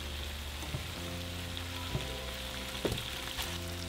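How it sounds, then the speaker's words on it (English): Tomatoes and onions fry in hot oil for a chile de árbol taquera salsa, giving a steady close sizzle with a few brief clatters of stirring. "the salsa that we're going for requires you to fry the tomatoes and everything together"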